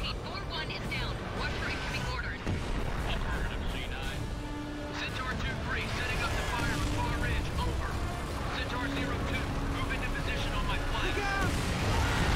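Grenade launcher blasts and explosions from an enemy attack in Gears of War 2, a dense continuous barrage of booms and crashes with a voice talking over the combat.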